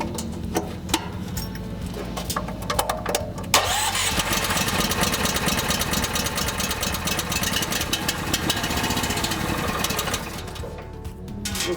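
A Grout Hog machine's engine turns over and fires up, then settles into a loud, steady mid-pitched running drone that holds for several seconds before easing off near the end.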